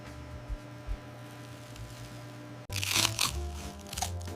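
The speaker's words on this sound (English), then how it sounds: "The crunch is louder than the drive-thru version, and it fits your macros." A burger on a toasted bun with crisp lettuce and creamy spicy sauce is bitten into, producing one close, loud crunching bite that breaks into crackly chewing after a quiet room-tone lead-in.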